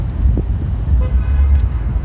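Mopeds pass close by on a road, a steady low motor rumble with a short horn toot early on and faint higher tones later, no talking.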